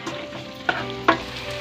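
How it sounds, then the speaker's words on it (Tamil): Potatoes sautéing with masala in a pan for a mutton kola urundai kuzhambu, giving a steady close sizzle with two sharp scraping stir strokes. "இந்த கிழங்க நல்லா இந்த மசாலையோட ஒரு 5 நிமிஷத்துக்கு நல்லா வதக்கி விட்டுடலாம்."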